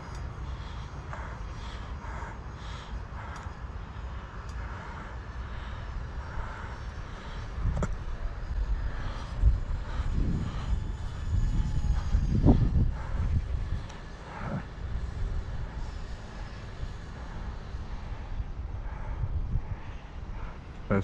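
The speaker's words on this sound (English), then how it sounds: "The 30mm EDF fans doing the job quite well." RC UMX A10 Thunderbolt model jet with twin 30mm electric ducted fans flying overhead, a thin fan whine over wind rumble that swells as it passes close around the middle and then fades.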